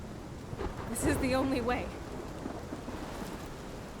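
Rain and rolling thunder in Life Is Strange, a steady wash of rainfall with a low rumble under it while a voice speaks briefly over the storm.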